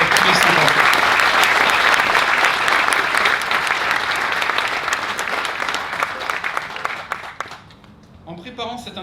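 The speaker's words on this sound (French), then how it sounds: "J'aimerais qu'on les applaudisse pour leur passion" A sustained burst of audience applause at an inauguration ceremony, dense and loud throughout before thinning out and fading near the end.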